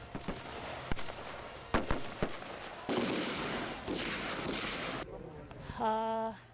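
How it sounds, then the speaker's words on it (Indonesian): Sharp gunshots crack out at intervals during a United Nations police peacekeeper shooting drill, each shooter firing a single round, mixed with later bursts of noise and a brief rising electronic tone near the end. "Setiap orang hanya dibekali sebutir peluru dengan waktu menembak 20 detik"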